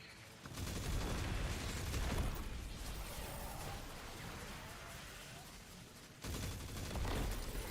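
Dense gunfire fills a video game raid, with rapid overlapping shots and bursts running nearly continuously, pausing briefly near the end before resuming loudly.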